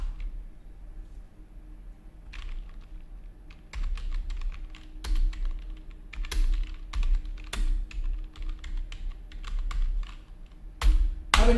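Computer keyboard typing a sentence in a word processor: irregular clusters of crisp key clicks with sharper isolated taps, close and clear over faint background hum.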